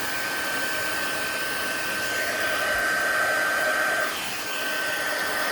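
An embossing heat gun blows hot air for card-making with embossing powder, a steady loud broadband roar with a thin whine, running the whole time with a slight dip near the end and no talking.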